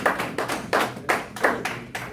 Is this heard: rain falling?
no